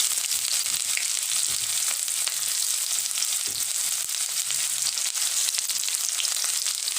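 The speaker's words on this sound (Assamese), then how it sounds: "ইয়াত দিম এতিয়া মই পিয়াজ।" Onions fried in hot oil in a kadai after fenugreek seeds, giving a steady, close, loud sizzle and crackle that runs on without pause.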